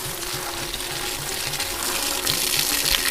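Steady broadband rush of water running from a household tap, continuous and fairly close, with a low mechanical hum beneath and no talking.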